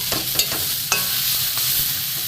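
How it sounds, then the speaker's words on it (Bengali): Grated papaya frying with sugar in a pan for halwa, stirred with a spatula: steady close sizzle with scraping strokes and a few sharp clacks, no talking. "চিনিটা এর সাথেও ভেজে নেব"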